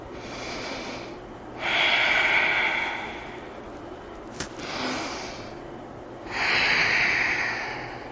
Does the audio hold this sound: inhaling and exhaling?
yes